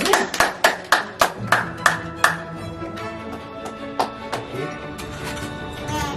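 A small group claps in sharp, separate bursts, with several loud clap clusters at first and then thinner, fainter clapping trailing off under background voices and music.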